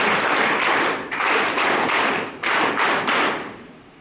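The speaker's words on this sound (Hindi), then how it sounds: "एक बार ताली सर के लिए बजा दो।" Audience clapping for a teacher at a college Kargil Vijay Diwas event, a dense broadband applause that keeps going with slight dips, swells again near the middle and then fades toward the end.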